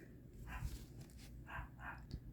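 A dog barks a few times somewhere in the background, short sharp yaps spaced apart, fairly faint.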